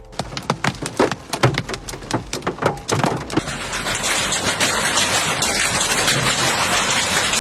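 Hailstorm with heavy rain in Sokółka, Poland: sharp hailstone hits crack and patter loudly at first, then merge into a dense, continuous roar of pounding rain, close and intense with no talking.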